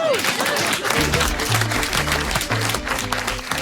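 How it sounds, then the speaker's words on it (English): A round of applause from a small group rings out steadily, with a low tonal pattern running underneath the clapping. "I think a round of applause"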